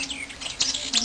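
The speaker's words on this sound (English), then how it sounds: "Why do those birds always make too much noise every single morning?" Short bursts of bird chirps and tweets, a few quick calls close by over a quiet background.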